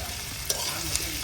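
Dried loitta fish frying with onion and garlic in a pan, a brief soft sizzle with a few sharp stirring clicks from a utensil.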